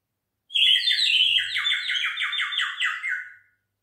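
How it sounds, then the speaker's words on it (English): A water-filled bird whistle toy is blown, giving a warbling, trilling whistle that rises and flutters rapidly for about three seconds, bright and close, then stops. "This is the whistling bird."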